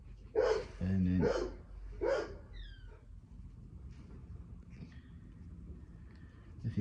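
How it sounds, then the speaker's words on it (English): A dog barks a few times close by in an outdoor garden setting, with two or three loud yaps near the start followed by quieter background noise. "if you can hear me with that dog barking."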